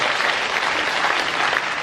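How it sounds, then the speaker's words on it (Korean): A concert audience claps steadily, a dense wash of applause with no pauses. "박수로 맞아 주십시오"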